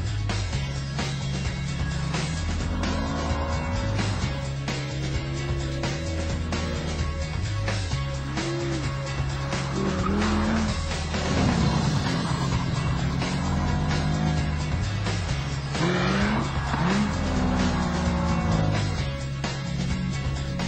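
A Ducati 999R superbike engine wails close on a hot lap around a track, rising and falling through repeated gear changes with a loud, continuous roar.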